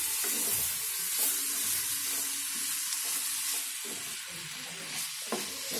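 Stirring of beetroot palya frying in oil in a pan over a low flame, with a steady sizzle and intermittent scraping strokes, close and continuous, no talking.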